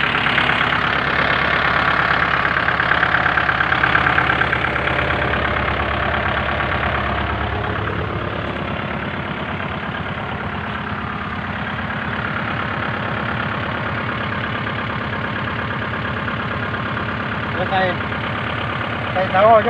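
A Kubota L50 tractor engine idles steadily up close with one wheel lifted off the ground, a continuous rough mid-to-low rumble that holds even throughout, with a brief louder burst at the very end.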